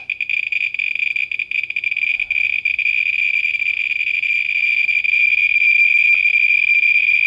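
Geiger counter detecting radiation sounds as a dense, continuous high-pitched buzz of rapid counts, loud and steady for about seven seconds with no talking.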